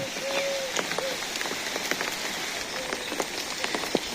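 Steady rain patters on a spread net with scattered sharper drops, a continuous close hiss, and a few faint voices briefly in the background.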